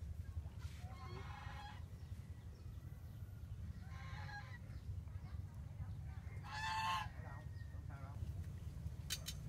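Geese honk in several short bursts over a steady low background hum beside a large fishing pond in rural southern Vietnam, moderately distant and fairly faint.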